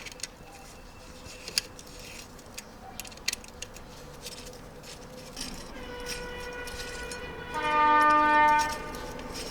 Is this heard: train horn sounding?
yes